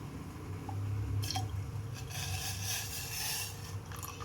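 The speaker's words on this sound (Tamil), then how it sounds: "இப்போ நம்ம மிக்ஸ் பண்ணி வச்சுருக்க இந்த மில்லட்ஸை ஆட் பண்ணிப்போம்." Soft liquid sloshing and bubbling as a grainy millet mixture is tipped into simmering water for porridge, with a low continuous rumble underneath.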